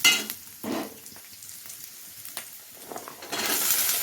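Vegetables such as carrot and broad beans go into a pan of browned onion for a poriyal. Scattered clatter and brief sizzles build into a louder, steady frying hiss toward the end.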